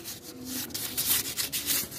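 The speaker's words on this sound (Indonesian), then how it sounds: "Jadi saya coba amplas kering seperti gini" Dry sandpaper rubbed by hand over epoxy-painted metal on a Suzuki Satria FU motorcycle engine, a quick rhythmic scratchy rasp of back-and-forth strokes, close and steady with no talk.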